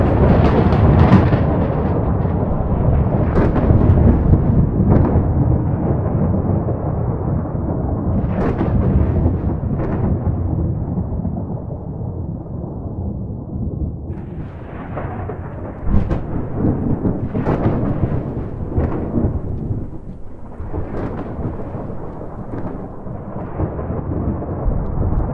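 Thunderstorm in Minecraft with the Localized Weather Mod, with steady loud rain-like rumble throughout and repeated thunder cracks and booms rolling in at irregular intervals, no voices.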